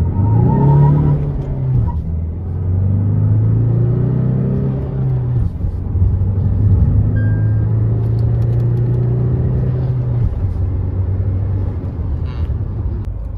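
A Tata Safari SUV in sport mode accelerates hard from 0 to 100, its engine droning loud and close with rising pitch through several gear changes, a steady rumble throughout with no talk.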